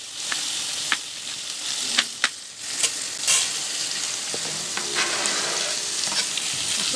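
Chopped green chilies and onions fry for upma in a steady, bright sizzle, broken by sharp spatula scrapes and clicks against the pan every second or so.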